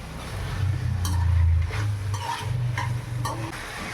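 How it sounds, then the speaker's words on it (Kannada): Chicken gravy fries in a pan, a steady close sizzle with repeated metallic scrapes and clinks of a spoon stirring, alongside a low hum. "ಇದು ಈಗ ಚೆನ್ನಾಗಿ ಫ್ರೈ ಆಗಬೇಕು"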